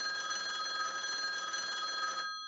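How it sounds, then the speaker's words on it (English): A telephone bell rings steadily and loudly in a radio drama sound effect, a continuous trill lasting over two seconds before cutting off. "Let me answer the phone."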